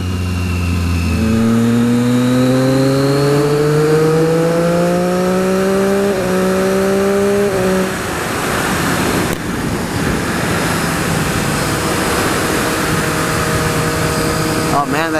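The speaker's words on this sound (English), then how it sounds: "that exhaust sounds so great" Motorcycle fitted with an Austin Racing exhaust revving up through the gears on the ride home from SCMM 2016, loud rising engine tones with shifts before settling into a steady roar of wind and road noise.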